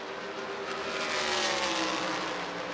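USAC Silver Crown race cars roar down the back straightaway at World Wide Technology Raceway, a continuous loud, dense engine rush that swells slightly mid-pass, with no talking.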